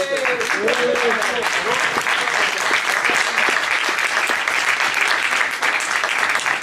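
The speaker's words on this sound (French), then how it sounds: "On peut applaudir." Sustained applause from an audience fills the whole stretch, dense and steady clapping with a few voices mixed in near the start.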